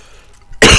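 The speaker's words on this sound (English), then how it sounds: "Oh no, never mind. I'm just gonna cough." A single sharp cough bursts out abruptly at the end, close and loud, after near silence.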